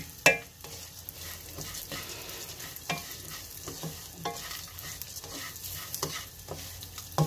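Melon seeds (magaz) roasting dry in a pan, with steady stirring scrapes and soft crackling sizzle; a sharp knock near the start and repeated scraping strokes at a moderate pace, close by and otherwise quiet.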